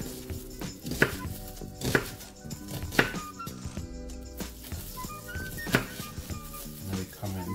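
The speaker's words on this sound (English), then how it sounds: "So we're gonna come in with half of an onion, and I'll just cut it long ways first." A knife cuts lengthwise through half an onion on a board, giving a run of crisp, evenly spaced chops about once a second, close and clear over soft background music.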